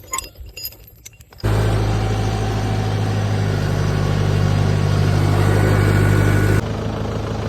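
A farm tractor with a cultivator hitched behind it, running with a steady, loud engine drone that kicks in after a quieter start and holds a constant low hum before dropping slightly near the end.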